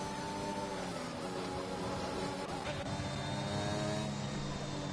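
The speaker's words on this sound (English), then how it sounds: "sound of the bloody safety car going down, the big grunt V8." A deep, rumbling V8 safety car engine in a racing video game drones steadily at constant revs, loud and continuous, with a faint pitch shift partway through.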